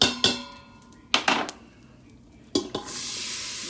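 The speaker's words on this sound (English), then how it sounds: "So now we're gonna add our veggies." Vegetables are dropped into a pot with browned sausage for jambalaya: three separate clattering thuds of food and utensil hitting the pot, followed by a steady, loud sizzle close by.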